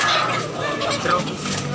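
Fowl at a poultry market in Tabunok, Cebu give brief clucks and honking calls, moderately close amid a busy background murmur.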